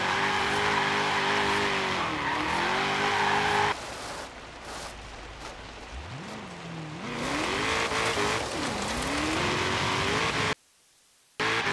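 A custom Ford Mustang GT350 drifting at an airport in Forza Horizon 3 revs hard, engine pitch rising and falling as the tires squeal through side-to-side slides, loud and close with no voices.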